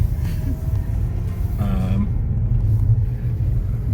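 A car climbs a steep, narrow tarmac farm track in the Lake District, its engine a steady low rumble with road noise throughout, heard from inside the cabin with no talking.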